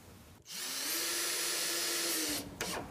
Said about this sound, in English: then drive the screws.